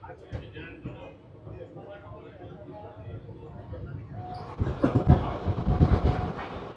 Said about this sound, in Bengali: আমাদের ট্রেন ছেড়ে দিল নবদ্বীপ ধাম স্টেশন থেকে, 20 মিনিট দেরিতে ছেড়েছে।